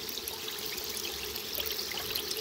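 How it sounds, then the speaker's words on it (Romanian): Steady rushing and trickling of mineral spring water pouring out continuously, close by, with no voices over it. "Deci, uitați cum vine apa."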